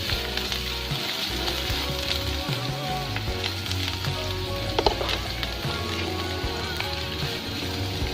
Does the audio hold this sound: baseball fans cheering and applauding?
no